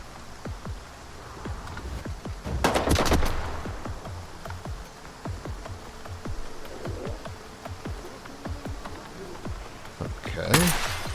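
Gunfire in STALKER 2: Heart of Chornobyl, with sharp, scattered rifle shots cracking throughout, a denser burst around the third second and another loud blast near the end, over a steady rain-like background.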